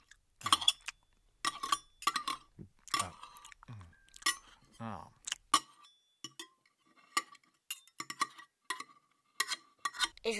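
Dishes being washed at home, with cutlery and glassware clinking in a close, irregular series of sharp clatters and knocks separated by short pauses.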